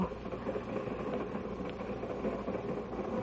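Steady low rumble of a train rolling along the rails, a continuous rattling drone heard from inside the carriage.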